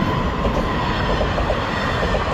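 A train rolls past on Taiwan Railway's coast line, a loud, steady broadband rumble of wagons and wheels holding for the whole stretch with no voices.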